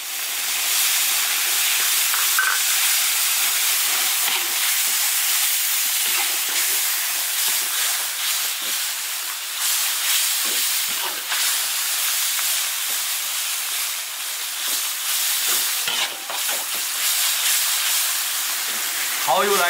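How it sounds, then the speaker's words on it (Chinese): Chopped chili and minced garlic stir-fry in a hot iron wok, giving a loud, steady sizzling hiss that runs unbroken for the whole stretch, with a few faint scrapes and clinks. "把剁椒炒出香味，然后下蒜蓉。"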